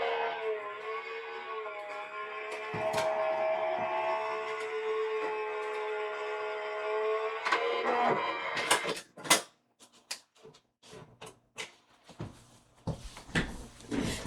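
A manual die-cutting machine feeds a 3D embossing folder between its white and gray plates, a long groaning, creaking drone that gives way to a series of sharp clicks and clunks.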